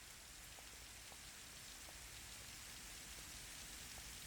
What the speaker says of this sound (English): So this is the rain, how the rain looks.